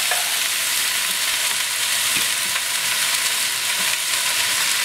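Rice noodles stir-fried and tossed in a hot pan give a steady, close crackling sizzle with soft scraping stirs running through the whole stretch, no talk.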